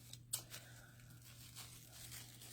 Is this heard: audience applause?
no